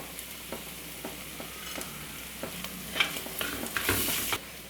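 Curry leaves hit sautéing masala for crab biriyani, producing a continuous close sizzle with scattered crackles and stirring clinks that swell into a louder hiss near the end.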